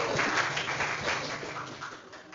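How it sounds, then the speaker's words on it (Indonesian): A class applauding a classmate during a school lesson: steady, moderately loud clapping from a small group that tapers slightly toward the end, with faint voices underneath. "kasih aplaus dong dulu untuk temannya"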